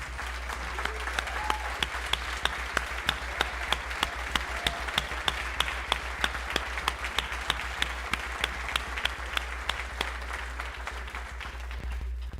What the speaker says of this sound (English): Could all of our past inductees please stand up so we can give you a round of applause?